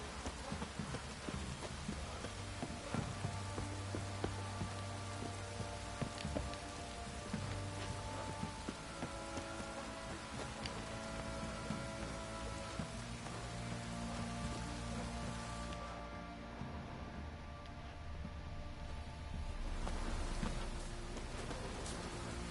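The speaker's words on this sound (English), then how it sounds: "Oh, it's drizzling." Light rain drizzling steadily across an outdoor scene in The Witcher 3, a soft continuous patter with faint hoof clops mixed in underneath.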